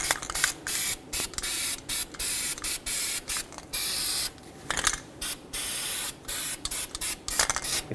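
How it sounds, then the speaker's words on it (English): Anti-seize compound sprayed from an aerosol can onto the rusty, discolored hub surface of a 2008-2020 Dodge Grand Caravan during rear wheel bearing replacement: a rapid series of short, sharp hissing bursts, close and fairly loud, with no talking. "I'm going to coat this whole surface with some anti-seize so that it doesn't rust in the future"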